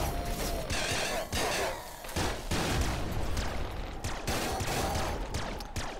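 Rapid bursts of weapon fire from a golden laser pistol in the top-down shooter game Nuclear Throne, dense and continuous with brief gaps, loud game effects layered throughout with no talking.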